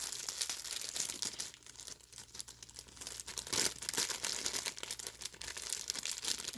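Gift wrapping paper crinkles and tears as a present is opened, in close, irregular bursts of rustling that rise and fall throughout.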